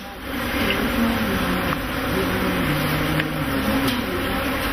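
Bees hum around a few African hives, a steady, dense, close drone holding evenly from start to finish with no voices.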